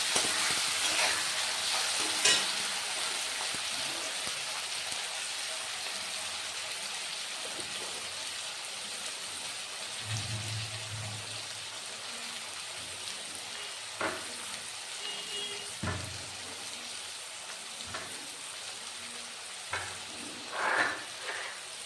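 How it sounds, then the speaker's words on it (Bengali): Tomato and onion fry in a pan with a quiet, continuous sizzle, and occasional soft scrapes and knocks of stirring come through now and then. "টমেটো আর পেঁয়াজটা ভেজে নিয়েছি"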